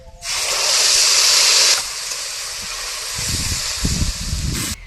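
A loud burst of hissing sizzle as wet tomato paste hits hot oil with fried whole garam masala, easing to a steady crackling fry with some clattering stirring noises.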